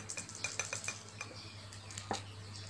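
A mixture of water, fish feed and flour is stirred with a utensil in a container, giving a series of light, quick clinks and scrapes, fairly faint with no talk.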